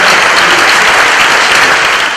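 A church congregation at a Cameroon worship crusade bursts into loud, dense applause, a continuous roar of many hands clapping at once without a break.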